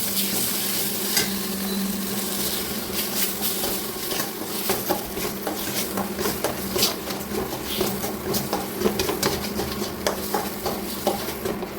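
Banana peel paste with turmeric is stirred in a pan, a spoon scraping and tapping the metal in an irregular rhythm over a steady soft sizzle, close and without talk.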